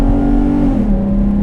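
A modified V6 Camaro with headers and a Borla axle-back exhaust revs loudly up close, a deep steady engine drone that shifts pitch partway through and then settles.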